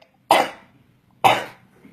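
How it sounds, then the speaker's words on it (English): Two separate harsh coughs from a person, close and loud, evenly spaced about a second apart with near silence between them, no talking. "it's just my cough, and oh, it's horrible"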